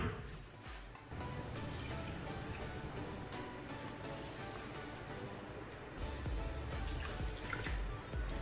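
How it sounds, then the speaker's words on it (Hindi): Water poured from glasses into a pot holding 2 kilos of sugar for a Rooh Afza sharbat, a steady close splashing and trickling that runs continuously with slight surges. "इसमें मैंने 4 गिलास पानी डाल दिया है।"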